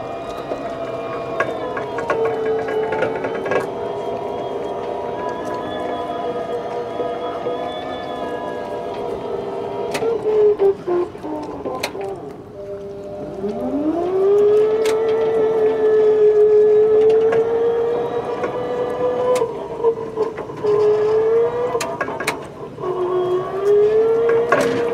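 Crown 30WRTT 24-volt electric walkie stacker driving forward in rabbit (fast) mode, a steady whining electric drive motor whose pitch rises and falls as it speeds up and slows, with intermittent clicks and rattles.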